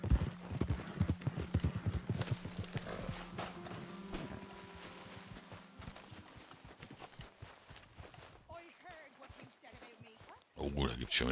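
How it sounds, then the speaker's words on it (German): Horse hooves clip-clop in Red Dead Redemption 2, rhythmic and fairly close at first, then thinning and fading among ambient game sounds before a louder burst at the end. "Warum kommt mein Pferd hier mit rein?"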